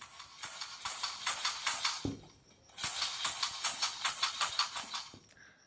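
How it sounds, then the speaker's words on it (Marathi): Dry, crisp rustling and rattling of crispy fried rice-flour chivda with sev being tossed and mixed, in two long bursts with a brief pause between. "तुम्ही आवाजसुद्धा ऐकलात ना की आपला चिवडा किती छान कुरकुरीत असा झालेला आहे"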